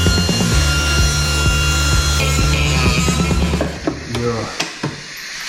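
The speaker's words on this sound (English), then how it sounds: "grinding it off" A power tool grinds off a welded bolt in the floor of a VW T4 Syncro under rebuild, a steady high-pitched whine with rough scraping that holds for several seconds, then falters into short bursts near the end.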